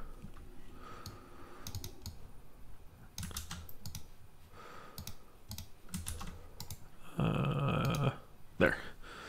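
Keys clacking on a computer keyboard as a command is typed into a terminal, quick irregular bursts of clicks with short pauses and one louder thump near the end, no talking.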